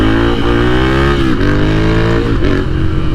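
A motorcycle engine revs hard and loud during a wheelie, a steady close roar with rising and falling pitch sustained throughout, no talking.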